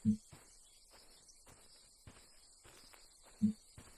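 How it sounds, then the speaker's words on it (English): Summer cicadas in the horror video game Yukimaru keep up a faint, steady high-pitched drone throughout, broken by a couple of soft thuds. "We're just basking in the summer atmosphere with the cicadas going on right now."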